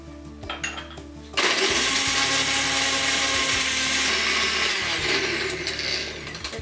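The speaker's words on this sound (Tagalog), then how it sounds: "secure po natin mabuti yung blender bago natin gamitin." Blender crushing ice and mangoes: a few soft clunks, then the motor starts suddenly into a loud, steady grinding roar that continues for several seconds.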